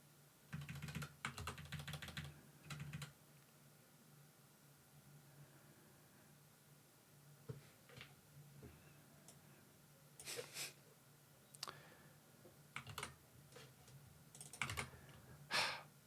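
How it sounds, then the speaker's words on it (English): Bursts of typing on a computer keyboard during a coding session, quiet clusters of clicking keystrokes separated by pauses, faint and close over low background hiss. "I'm going to be annoyed typing all of this, though."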